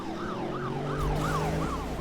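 A police car siren in the Need for Speed Rivals racing game wails in steady rising and falling sweeps, passing close over a continuous low engine drone.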